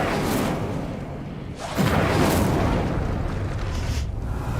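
Incendio fire spell cast in Hogwarts Legacy, a sudden whooshing burst of flame with a deep boom that erupts loudly and then roars on as a sustained rush of fire.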